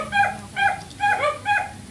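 A dog whimpers and yips in four evenly spaced, high, whiny bursts, close and fairly loud with short pauses between them.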